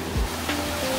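Roaring water from a roughly 28 m waterfall on Sobaeksan in a mountain valley, a steady broadband rush heard nearby without speech.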